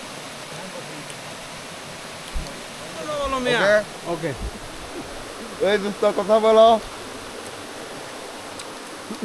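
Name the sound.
waterfall in hills of Bandarban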